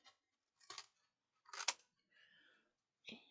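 Scissors snipping through cardboard, several separate crisp cuts with short pauses, close and clear in an otherwise quiet room.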